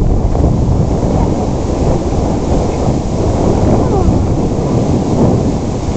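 Strong headwind roars into the microphone during a Danube ultra ride, a loud, continuous buffeting rumble that fills the whole stretch with no pauses.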